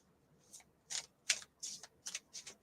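A deck of tarot cards is shuffled by hand, giving six quiet, crisp riffling bursts at a steady pace, close and soft, with no one speaking.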